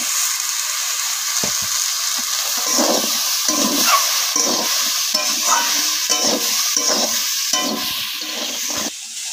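A spatula scrapes and stirs mixed vegetables frying in a pan for a Bengali five-vegetable dish, with repeated rhythmic scraping strokes over a constant close sizzle and no voices.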